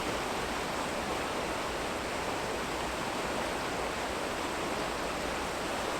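A small creek swollen by heavy rain rushes along in a steady, dense roar of turbulent water, close and unbroken, with no talking.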